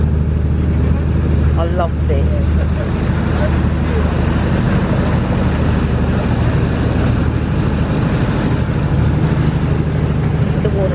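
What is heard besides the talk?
boat turning round on the River Dart at Dartmouth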